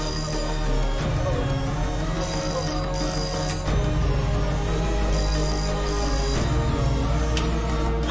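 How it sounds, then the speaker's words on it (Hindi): A telephone bell rings insistently in a Hindi-dubbed South Indian film, repeated trilling bursts over a dense music-backed scene, loud and continuous for several seconds with no talk. "पहले घर फोन करके देखो"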